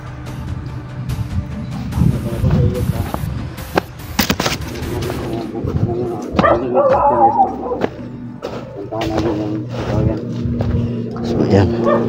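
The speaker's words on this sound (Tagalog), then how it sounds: "May ligaw na aso." A stray dog barks in a forest area, giving several sharp, separate barks at mid distance among rustling and people talking nearby.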